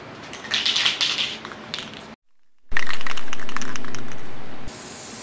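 A spray gun lays clear coat onto a VW bus rear hatch cargo door panel outdoors in dry air, a close hissing burst that swells for about a second and a half, then stops, then returns as a louder, steady spray that runs for nearly two seconds.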